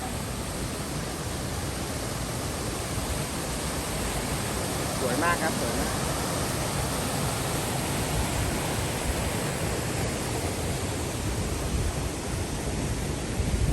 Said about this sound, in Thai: ไปเดี๋ยวไปดูน้ำตกกันถึงแล้วครับ